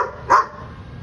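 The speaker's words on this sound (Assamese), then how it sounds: "আৰু ভুকি আছে" A dog tied up near a home's bathroom after a bath gives two short, loud barks about a second apart, with quiet room tone between them.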